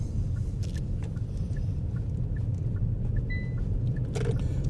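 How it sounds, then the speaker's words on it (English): A car accelerating gently while driving straight ahead in a lane through town roundabouts, a steady low engine and road rumble that stays even and continuous throughout, with no talk. "I went with a little gas there then because I felt I had the opportunity"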